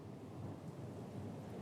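Steady, howling rain with a low thunder rumble in the Pillars of Eternity II: Deadfire video game, forming a dense, even wash of stormy noise with no clear breaks.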